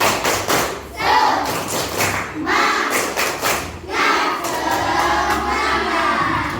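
Indonesian schoolchildren in a classroom doing a tepuk semangat, a patterned spirit clap, with rhythmic thuds and claps that run continuously, close and loud, with voices mixed in.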